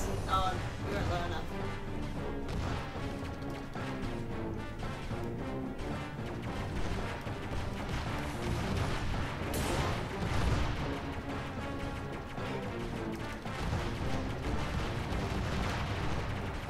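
Missiles and lasers fire in the space shooter video game Aegis Wing, a dense, constant barrage of blasts, zaps and crashing impacts that stays loud throughout with only slight swells.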